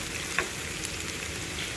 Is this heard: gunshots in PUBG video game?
no